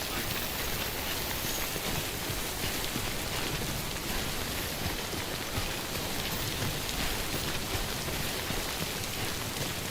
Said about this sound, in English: I don't want to be in the goddamn rain. How do I get out of the rain?